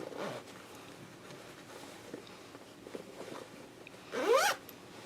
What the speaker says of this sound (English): we're going to close the zipper up all the way